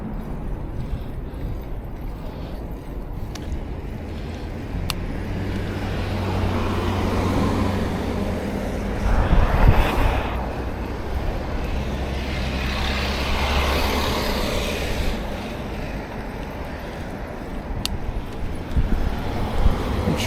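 Road traffic stuck in a jam in Korea rumbles steadily nearby, with idling engines, passing vehicle swells and a low continuous hum, no talking.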